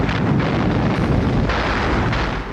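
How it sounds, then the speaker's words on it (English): Sustained, dense World War II Soviet artillery barrage during the siege of Leningrad, a continuous loud rumble of overlapping booms and blasts with no pauses. "The initial artillery offensive lasted almost 2 hours."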